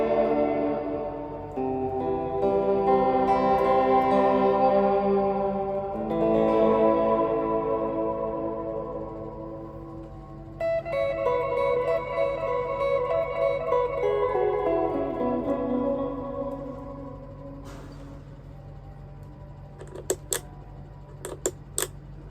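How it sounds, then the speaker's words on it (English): Guitar notes and chords played through a Fender Reflecting Pool pedal with reverb and delay combined, sustained tones blooming into long washy tails that smear together, ending with a few sharp clicks; no talk. "how it sounds with the combination of the reverb and the delay"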